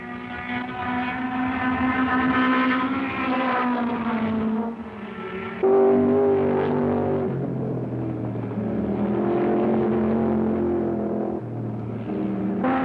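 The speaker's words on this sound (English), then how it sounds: "Here's the first Shelby Cobra running sixth with Dan Gurney at the wheel." 1964 race cars, including a Shelby Cobra, roaring around the Sebring 12-hour circuit, with loud sustained harmonic engine drones that shift pitch as cars pass and change gear, filling the clip without pause and with no talking.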